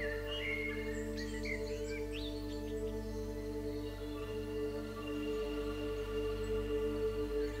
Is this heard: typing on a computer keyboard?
no